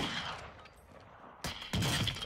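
Bursts of gunfire in the video game Warzone 2, two loud volleys of rapid shots over a noisy battlefield background.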